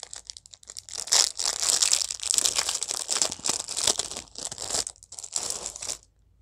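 A plastic bag crinkles loudly and irregularly as an item is pulled out of it. Bursts of rustling come close to the microphone, with brief pauses between them, and no one speaks.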